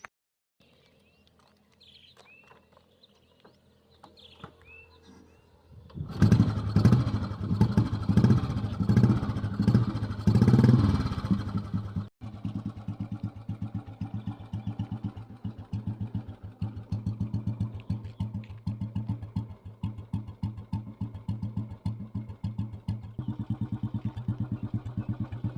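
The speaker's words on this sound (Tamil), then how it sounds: "வாங்க இப்போ வண்டி ஸ்டார்ட் பண்ணி பார்க்கலாம் வாங்க" An old Royal Enfield Bullet motorcycle cranks over and fires up loudly, then settles into a steady, thumping idle close by, with faint bird calls behind it.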